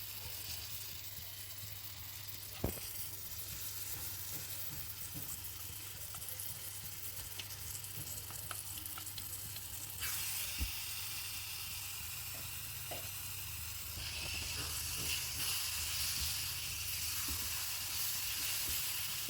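Ground dried fig pulp cooks in a pan with melted ghee for halwa, giving a soft, steady hiss and sizzle with occasional clinks and scrapes. The sizzle brightens and grows louder partway through.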